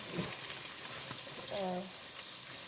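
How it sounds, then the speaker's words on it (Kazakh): Steady, loud sizzling of lung frying in a hot pan on high heat for kuyrdak, with a brief voice in the middle. "Бұны да бірінші 1-2 минут көлемінде қатты отта қуырып,"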